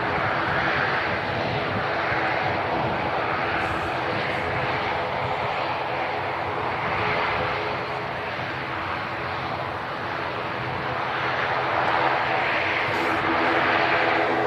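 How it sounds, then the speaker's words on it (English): Steady, loud jet roar from a TUI Boeing 787 Dreamliner airliner at Manchester Airport, a broad continuous rumble and hiss holding level for the whole stretch with only slight swells, no talk over it. "Punta Cana service there, the TUI Dreamliner."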